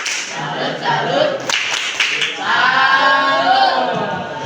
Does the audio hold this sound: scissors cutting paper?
no